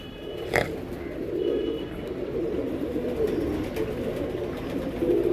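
Pigeons coo steadily in a low, throaty murmur, close and continuous, with a brief click near the start.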